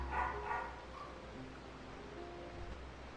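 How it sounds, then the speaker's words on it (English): Dogs bark and whine faintly in short bursts near the start, then a low, quiet background continues with no speech. "My dogs are barking."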